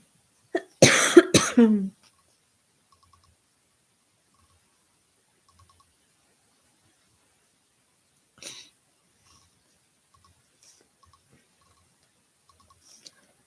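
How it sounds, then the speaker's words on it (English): A short burst of harsh coughing near the start, then mostly quiet with a couple of faint, brief noises later on. "I still have that cough"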